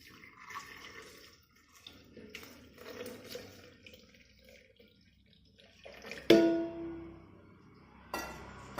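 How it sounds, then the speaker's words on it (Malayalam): Half a litre of chilled milk pours into a blender for a banana milkshake, a short splashing gush that fades quickly, followed by a clunk; brief kitchen noises come before it. "ഇത് ഒരു 1/2 ലിറ്റർ പാല് നല്ലപോലെ തണുപ്പിച്ചെടുത്ത് വെച്ചേക്കുന്നതാണ്. ഇത് നമുക്ക് ഇതിലേക്ക് ഒഴിച്ചു കൊടുക്കാം."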